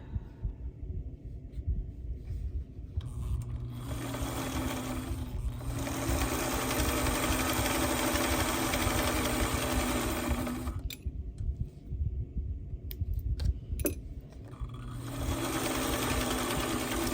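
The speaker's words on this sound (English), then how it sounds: "I'm just going to sew a scrap of fabric in between and just work my way around the block" A sewing machine runs in long, steady stitching bursts with a rhythmic mechanical hum and brief pauses, sewing a fabric scrap between 5-inch quilt blocks to chain around the block.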